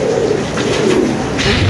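Pigeons at a busy pigeon market coo in low, throaty rolling calls that overlap continuously, close and fairly loud amid a noisy background.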